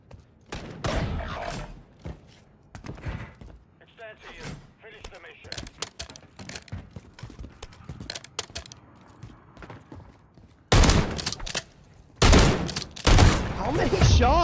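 Shooter video game gunfire during ranked solo play: scattered shots and short bursts, then loud, dense volleys of rapid fire near the end, with a player talking throughout.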